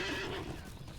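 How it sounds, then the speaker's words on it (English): A hunter's steed whinnies in a Lord of the Rings video game, one short high neigh fading quickly, with faint hoof clatter. "I'm going to use my hunter's steed."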